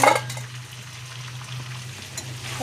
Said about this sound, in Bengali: এখন দিয়ে দিচ্ছে কড়াই, এখন মাংস আর আলু দিয়ে দিচ্ছে।